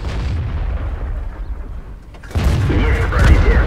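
Tank cannon fire in the World of Tanks game during a high-tier battle with Russian medium tanks: a dull stretch of rumble breaks into a loud, sustained booming blast that carries on to the end, with no talking.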